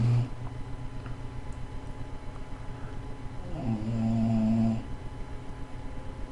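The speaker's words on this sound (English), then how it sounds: "I try to keep her a little bit quiet, but Bulldog may snore" A bulldog snores nearby, a low rumbling breath that swells loudly for about a second near the end, over a quiet room hum with no talking.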